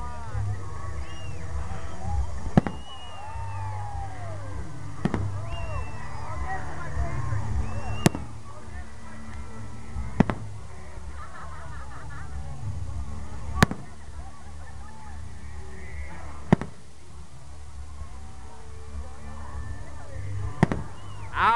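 Fireworks at a paid park show: a series of sharp booming bursts spaced every few seconds, loud and fairly close, over crowd chatter and talk.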